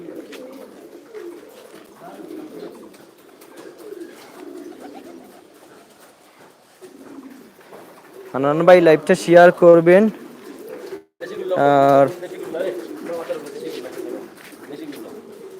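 Fancy pigeons of several breeds at a pigeon farm in Sylhet, Biswanath, kept in separate pairs, coo in a few close bursts midway, with people talking throughout.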